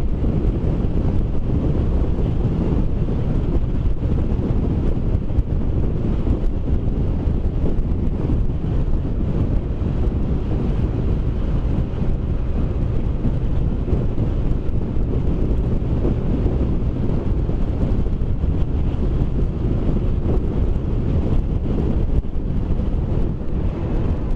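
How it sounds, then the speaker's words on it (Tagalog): Steady, heavy wind roars and buffets against the microphone for the whole stretch, a dense low rumble with no pauses, on a motorcycle road trip from Vigan to Bangui Windmill. "masyado lang malakas ang hangin"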